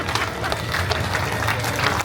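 Crowd applause at a live Christmas stage show at Disney California Adventure, dense clapping from many hands close and fairly loud, sustained throughout.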